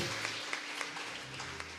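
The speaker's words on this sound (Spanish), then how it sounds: "Un aplauso al Espíritu Santo." Short, fairly faint burst of congregational applause in a church service, with scattered claps over an even, soft wash of clapping.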